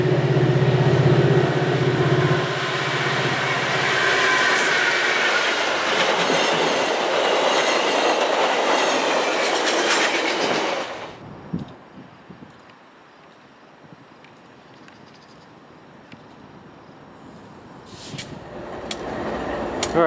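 A freight train hauled by BC Rail and BNSF locomotives rumbles past close by, wheels clattering loudly for about ten seconds before it cuts off, leaving quiet with a few faint clicks.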